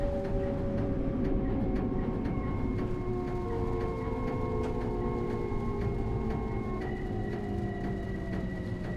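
Train in Train Sim World 4 slowing into a stop on wet rails, with a steady loud rumble and long, falling tonal whines of motors and brakes easing down throughout.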